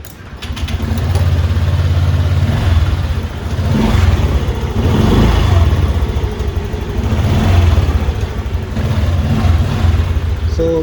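A motorcycle engine runs on a sodium-ion battery, a low, steady idle close to the microphone with a few swells of revving, alone without talk.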